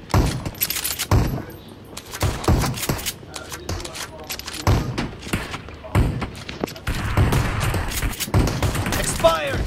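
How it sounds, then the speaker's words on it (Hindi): Shotgun blasts boom in the mobile game PUBG Mobile during a fight on the Library map. Loud, scattered bursts of gunfire come in clusters under excited voices talking. "शॉटगन ही खतरनाक चल रही है इसकी तो"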